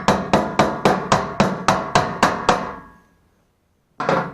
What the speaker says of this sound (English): You take your little hammer, or brass hammer, whatever you have.